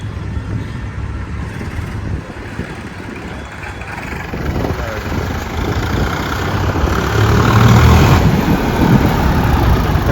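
A nearly new Sonalika 45 tractor, run about 100 hours, idles with a steady low diesel rumble close by, swelling slightly louder toward the end, with no speech.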